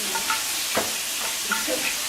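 Food frying in hot oil in a home kitchen cooking class, a soft steady sizzle with light crackles and occasional stirring or clinks, close and moderately quiet, with no talk.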